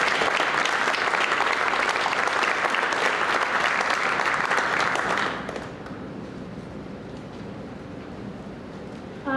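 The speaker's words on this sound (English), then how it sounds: "Please give them a round of applause." Loud, dense applause from a large audience at a school spring sports banquet that stops abruptly about halfway through, leaving quiet room murmur.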